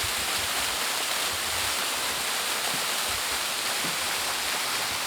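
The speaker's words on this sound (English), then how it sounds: "It's an 80-foot waterfall," Steady, dense rushing water roars without a break, a broad full-bodied wash from an 80-foot waterfall close by near Cherokee, North Carolina, with no voices.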